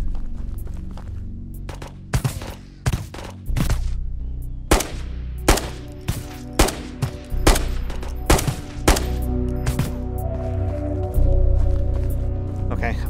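Rapid gunfire in Ghosts of Tabor, a mix of single sharp shots and short bursts, some loud and close, others more distant, scattered irregularly through the clip over a steady background.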